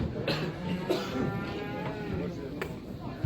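A cow at a busy livestock market lets out a low, drawn-out moo against a constant murmur of crowd noise and distant voices.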